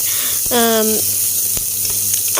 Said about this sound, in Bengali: পেঁয়াজটা রসুনটা ভালোভাবে ভাজা হয়ে গেলে দেখো ভাজা হয়ে গেছে